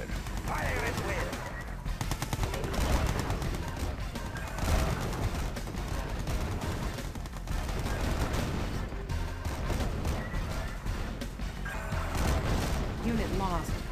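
Battlefield gunfire in the strategy video game C&C Yuri's Revenge, with steady, dense rattling bursts and impacts throughout, under occasional voiced unit responses.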